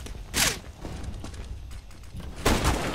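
Gunfire in CS:GO: a sharp loud burst opens, followed by scattered softer clanks and shots during play, then another loud burst near the end.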